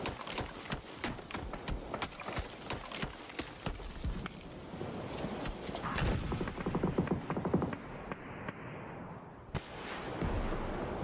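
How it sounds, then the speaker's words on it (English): Mortar fire in a competitive video game match: a rapid string of sharp gunfire-like blasts and thuds, dense and loud, rolling on through the whole stretch with brief gaps. "Mortars continue to fly towards Bestia"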